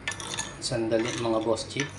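Orange juice sauce being mixed in a bowl, a spoon clinking and scraping against the dish in quick strokes, with someone talking briefly over it.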